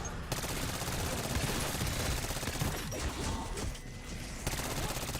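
Rapid automatic gunfire from a weapon in Black Ops 6 Zombies, a continuous dense stream of shots at steady loudness with little pause across the whole stretch.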